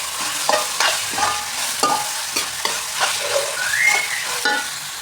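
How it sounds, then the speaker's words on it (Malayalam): Ginger garlic paste sautéing in a pan for a Kerala-style chicken biryani, a steady sizzle broken by repeated scraping stirs of a spatula, close and fairly loud with no voices. "ഇതിൻ്റെ പച്ചമണം മാറുന്നവർ നല്ലോണം നമുക്കൊന്ന് വഴറ്റിയെടുക്കാം കേട്ടോ"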